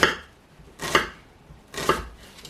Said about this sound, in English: And then we're just going to slice this.